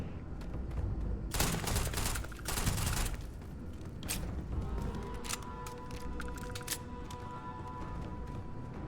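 Gunfire erupts in the video game Starfield, a dense burst of rapid shots up front followed by scattered single cracks and mechanical clatter, loud and close.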